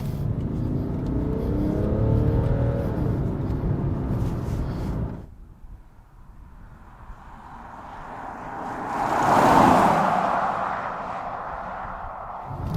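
A BMW 535d GT diesel accelerates along a country road, its engine rumbling and climbing in pitch before cutting off abruptly. The car then swells closer as a loud whooshing pass and fades away.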